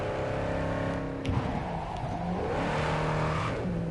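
A Javelina car in Cyberpunk 2077 revs hard, a loud, close engine roar climbing and dipping in pitch over a few seconds, with no talking.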